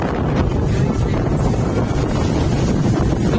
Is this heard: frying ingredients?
no